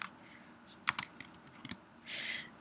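Keystrokes on a Mac keyboard while typing text in Adobe Photoshop CC 2018, a few sparse quiet clicks with one short burst of rapid taps near the end, close and faint, no talking.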